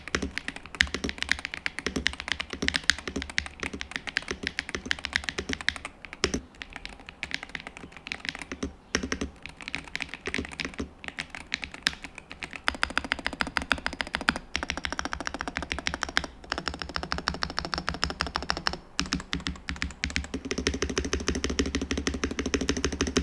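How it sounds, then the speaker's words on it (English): Rapid, continuous typing on a Pulsar PCMK 2 HE TKL mechanical gaming keyboard, with crisp clacky keystrokes in a fast irregular rhythm, close up and without any talking. "here's a quick sound test to give you a better idea of how this keyboard sounds"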